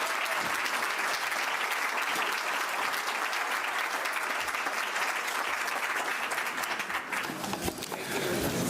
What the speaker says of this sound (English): please stand up and give a round of applause for Levi Roots